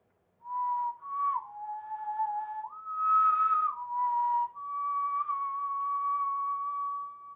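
A lone whistler performs the melodic intro of Erik Satie's waltz Je te veux, with clear, sustained pure tones that glide and step between notes in a close, quiet room.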